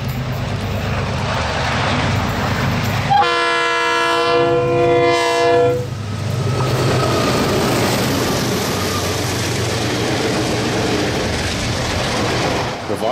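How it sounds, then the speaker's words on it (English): A KiwiRail diesel freight train hauled by DXC and DXB locomotives crosses the Clutha River bridge at Balclutha, with a loud sustained horn blast over the steady rumble and clatter of the passing wagons. "we followed KiwiRail's Saturday afternoon freight train number 938, running from Invercargill to Dunedin, seen crossing the Clutha River in Balclutha"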